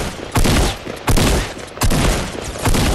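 Loud bursts of rapid gunfire in Fortnite Battle Royale, three or four volleys in quick succession with short pauses between, with no talk.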